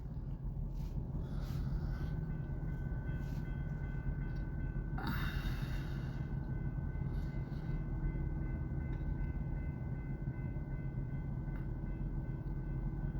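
A westbound freight train nears on the Columbus sub in 32-degree cold, a continuous low rumble with a brief rising squeal midway and faint distant tones, no talking.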